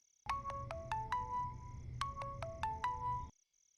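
A phone ringtone plays during an outgoing call, a bright repeating electronic melody heard twice in close succession, clear and alone before cutting off.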